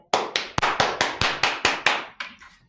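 A small audience claps along during a children's story, about ten sharp, evenly spaced claps that are close and loud at first, then taper off into softer, scattered claps.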